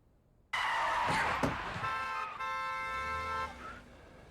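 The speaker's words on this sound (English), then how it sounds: "Probably just noticing the car horns now because you're not sleeping as well." Car horns honk loudly and close, with one long sustained blast followed by a second tonal honk over street noise, and no voices over them.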